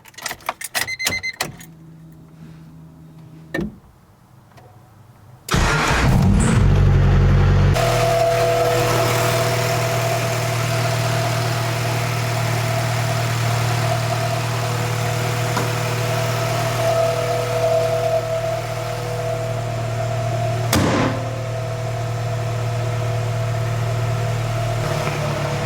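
A car engine cranks and catches after a few clicks and handling sounds, then settles into a loud, steady idle with a constant hum and a brief sharp knock partway through, nearby and alone.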